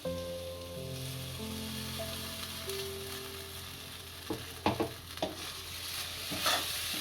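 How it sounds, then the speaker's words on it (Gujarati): Prepared gravy goes into a hot pan for a spinach (palak) curry. A soft, steady sizzle gives way to sharp splattering bursts and stirring scrapes partway through, up close and with no talking. "હવે આપણે જે ગ્રેવી બનાવી હતી નાખશું"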